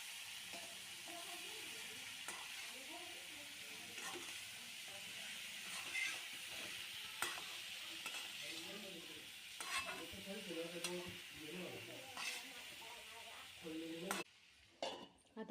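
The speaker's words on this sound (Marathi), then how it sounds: "ह्या भाजीला फोडणी खूप साधी देतोय" Tempering spices for a simple vegetable dish sizzle and hiss steadily in a pan while a spoon stirs and scrapes at intervals, and a voice talks quietly over the frying.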